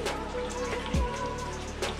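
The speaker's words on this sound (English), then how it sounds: "that's rain, but it's a sprinkle." A light sprinkle of rain falls on a lake during a fishing trip, soft scattered drops pattering faintly and steadily with no talk.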